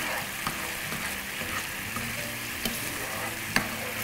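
Honey poured into a pan of butter, ginger, garlic, soy sauce and chilli sauce for honey garlic chicken sizzles steadily and close up, with a few light clinks of stirring.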